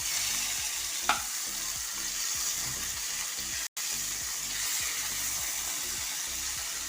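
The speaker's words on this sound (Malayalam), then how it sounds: "ഈ സൈഡ് കൂടെ ഫ്രൈ ആവട്ടെ" Fish frying in a pan gives a continuous loud, close sizzle with a faint rhythmic bubbling beneath, one brief clatter early on and a momentary cut to silence partway through.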